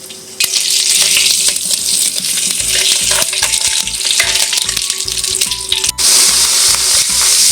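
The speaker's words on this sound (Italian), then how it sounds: "Ora che l'olio sfrigola è il momento di inserire la carne" Meat browning in hot, sizzling oil with garlic for a Christmas roast, a loud continuous frying hiss with crackles and spatters throughout, a brief stir-like clatter near the end.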